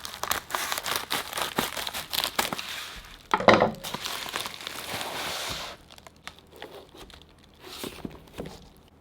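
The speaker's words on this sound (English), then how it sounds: "The Milwaukee scissors will do." Milwaukee scissors slicing open plastic packaging, with close, busy crinkling and crackling, a sharper rip near the middle, then quieter intermittent rustles.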